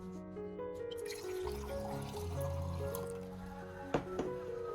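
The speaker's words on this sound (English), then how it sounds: "I water the orchid directly at the base" Soft trickling and dripping of water poured slowly at the base of an orchid, faint and close, over a low steady hum.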